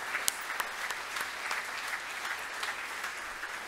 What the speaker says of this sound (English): Let's give our current Spartans a round of applause.